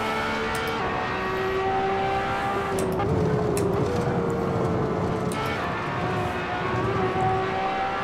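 A race car engine in Assetto Corsa screams at high revs as it climbs through the gears, a steady loud whine with pitch rising and dropping at each shift, constant engine tone throughout.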